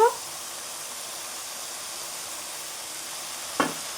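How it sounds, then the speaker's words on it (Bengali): Fried prawns sizzle in a pan of spiced masala with cumin and chilli powder, giving an even, close frying hiss between a clack at the start and a brief knock near the end. "ভাজা চিংড়ি মাছটা দিয়ে দেব"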